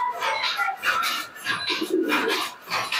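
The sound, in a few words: pigeons cooing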